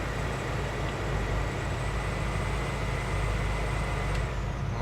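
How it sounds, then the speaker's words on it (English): Steady air conditioning blowing inside a 1970 Chevrolet Chevelle, a constant broadband whoosh with low engine rumble beneath, continuous and fairly close throughout with no talking. "First of all, our AC is blowing cold."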